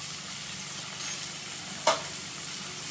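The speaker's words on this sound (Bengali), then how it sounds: "আমি মশলাটা ভালো করে কাঁচা গন্ধ যাওয়া পর্যন্ত কষিয়ে নেব" Garlic, ginger and cumin paste frying in oil for a rohu fish curry, a steady low sizzle with a brief louder crackle near the end, no voices.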